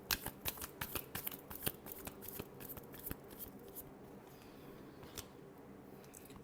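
A deck of tarot cards is hand-shuffled up close, with soft, quick papery flutters that are busiest at first and then thin out to a few scattered flicks.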